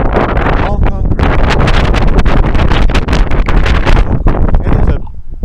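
Wind gusting hard outdoors at a concrete sculpture garden in Lucas, Kansas, loud buffeting rumble across the microphone that drops away near the end, with a voice speaking over it.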